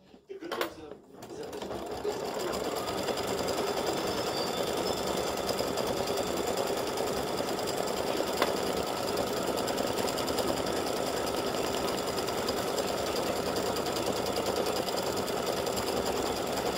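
Computerized embroidery machine stitching a get-well greeting card design on fabric, laying outline stitches over fill stitching; a steady, rapid mechanical rattle runs continuously and close after a brief start.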